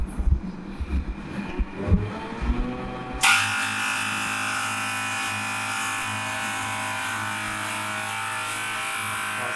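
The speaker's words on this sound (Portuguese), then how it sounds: "E vamos dar uma ligada na máquina agora para a gente ver como é que ela funciona." An FT Injector fuel injector cleaning machine switches on after some handling noises and settles into a steady, loud electric whir with a rapid buzzing pulse that continues unchanged to the end.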